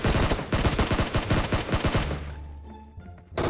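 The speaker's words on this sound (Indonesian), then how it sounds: "Rehan kayaknya pengen bunuh gua deh Han. Nembakin gua deh" Rapid automatic gunfire in the mobile game PUBG Mobile rattles out in a dense burst of close shots for about two seconds, fades into a quieter tail, then a single new shot cracks at the end.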